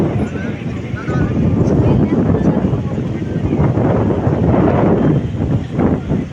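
Strong wind roars and buffets the microphone continuously on a moving train between Erode and Shoranur, a loud rumbling gust that swells and eases throughout.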